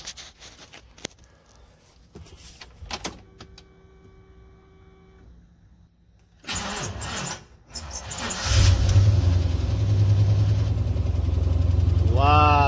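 A replacement engine on a heavy machine bought in trade for snowmobiles cranks and catches, then settles into a loud, steady running drone that holds to the end, following quieter handling noises.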